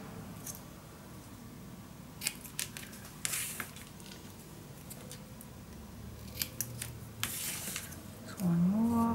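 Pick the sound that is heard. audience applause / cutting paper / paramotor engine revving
cutting paper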